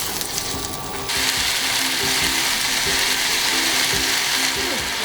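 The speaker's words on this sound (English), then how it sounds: "I'm going to cook them in the frying pan" Pork-wrapped tofu sizzles in a frying pan with a steady loud crackling hiss that swells after a moment and holds, with faint ticking and clicking underneath.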